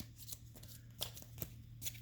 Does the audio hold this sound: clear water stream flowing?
no